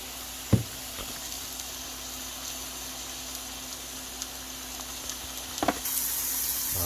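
Philly steak and charred peppers frying in a pan, a steady sizzle running throughout with a couple of sharp pops and clinks of a utensil, close and fairly loud with no voices.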